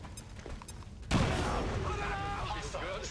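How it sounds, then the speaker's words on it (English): Gunfire in the video game XCOM 2: a sudden loud burst of shots starts about a second in, after a quieter lead-in, then a sustained rattle of weapons fire with game effects layered over it to the end. "Taking hostile weapons fire."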